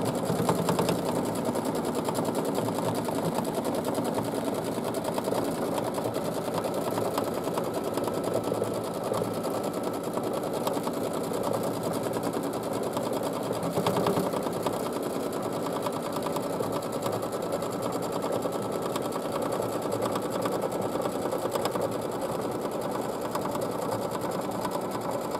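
A sewing machine embroiders a continuous border design on a fabric placemat, running in one unbroken, even mechanical whir at close range for nearly half a minute with no voices.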